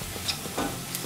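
Garlic and green chilli sizzle softly in a pan, a short low crackle with a couple of quick stirring scrapes; no voices.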